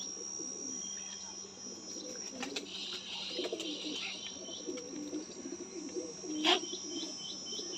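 Pigeons in a breeder's loft give soft, low repeated coos with a few sharper chirps, fairly faint against a quiet indoor background.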